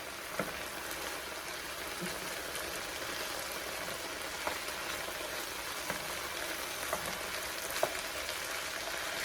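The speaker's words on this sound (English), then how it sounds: "our ground beef is back in our pan with our veggies" Ground beef and vegetables fry in a pan, a soft, continuous sizzle and crackle with occasional small pops, fairly quiet and steady, with no talking.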